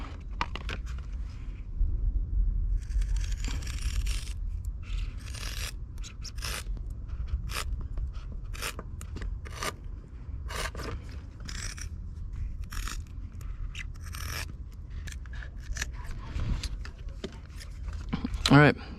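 Close, repeated scraping and snipping of a blade or scissors cutting out a damaged patch on an inflatable boat, with irregular short cuts and low background handling noise.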